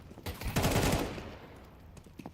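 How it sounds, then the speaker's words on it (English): Desert Eagle shots in a Counter-Strike match, a short burst of several heavy pistol reports packed close together, then a fading tail with faint game noise. "Some deagle shots rattling off"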